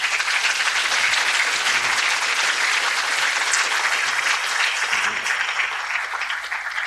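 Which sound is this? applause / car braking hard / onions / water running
applause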